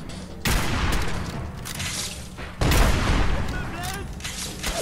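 Gunfire in the Fallout 4 video game, two sharp loud bursts of shots about two seconds apart, each trailing into a noisy decay, with voices talking in between.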